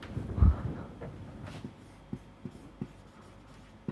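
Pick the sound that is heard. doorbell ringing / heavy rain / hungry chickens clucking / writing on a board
writing on a board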